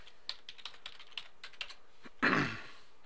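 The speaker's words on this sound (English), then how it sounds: "type your password in" Fingers tap a password on a computer keyboard, about a dozen light, evenly spaced keystrokes close up, ending with one louder, longer clack.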